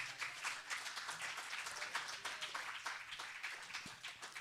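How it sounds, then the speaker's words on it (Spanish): A church congregation applauds with continuous, fairly faint clapping that holds steady throughout with no talk over it. "Puede darle un aplauso al Señor."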